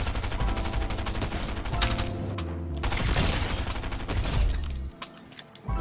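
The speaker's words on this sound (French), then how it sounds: "Attends, on va le tirer dessus, on sait jamais." Dense in-game gunfire in Fortnite, sustained rapid shots and impacts layered over game sound for several seconds, tapering off near the end, with no clear speech.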